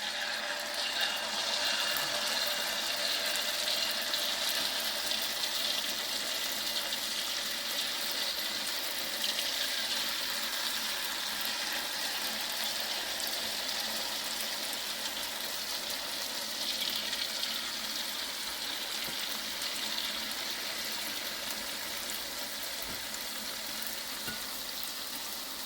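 Jalebi batter frying in hot oil, a steady dense sizzle and crackle holding evenly throughout, close and continuous with no talk.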